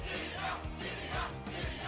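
Cheering concert audience from the video game Tokyo Mirage Sessions, a broad wash of crowd noise blended beneath pulsing, beat-driven stage music, fairly quiet and continuous throughout.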